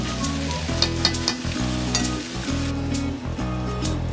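Tomatoes sauté in a pan for ginataang monggo, a continuous close frying hiss with intermittent stirring scrapes, set over a steady low tonal background throughout.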